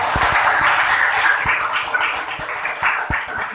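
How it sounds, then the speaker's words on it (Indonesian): Audience at an Indonesian gathering clapping along, scattered sharp hand claps over a steady bright wash of applause and crowd noise, fairly near and continuous. "Tepuk tangan dong."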